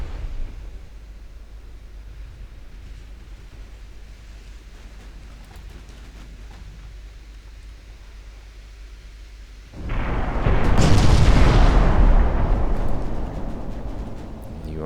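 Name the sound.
battleship main guns firing in Ultimate Admiral Dreadnoughts video game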